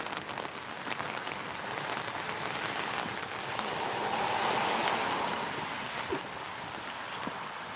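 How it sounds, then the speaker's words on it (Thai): Heavy rain pours steadily beside a roadside path, a dense continuous hiss close to the microphone with no voices. "โอ้ยฝนตกแรงมากเลยค่ะ"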